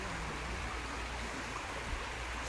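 A little stream near Pooley Bridge runs continuously close by, a dense, steady rushing and babbling of water with no voices over it.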